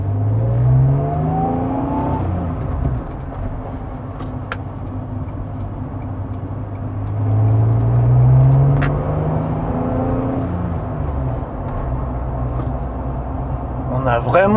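A Honda NSX sports car being driven, its engine note rising and falling through two clear revving swells over a constant road roar, with people talking inside the car.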